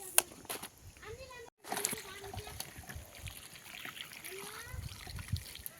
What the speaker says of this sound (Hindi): डंठल हमने 3 से 4 पानी से अच्छे से धो ली है।